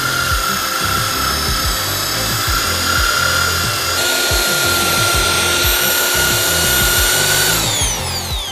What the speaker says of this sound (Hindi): इसको डाल रहा हूँ आलू और पानी से भरी हुई बाल्टी के अंदर और घुमाना करते हैं शुरू।